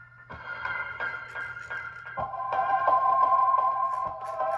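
Sustained synth chords from a synth plugin on an Akai Force with its built-in delay, repeating echoes trailing each note, the tone shifting partway through; no voices.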